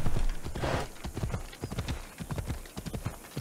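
A horse's hooves clip-clop in a rapid, even rhythm as it is ridden in the video game Assassin's Creed Odyssey, close and clear, with a faint whinny early on.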